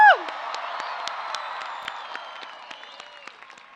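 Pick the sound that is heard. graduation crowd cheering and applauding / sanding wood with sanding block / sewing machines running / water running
graduation crowd cheering and applauding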